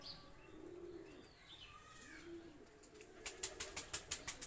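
Pakistani high flyer pigeons give soft, low coos, faint and close, followed by a rapid series of sharp flapping or clattering bursts.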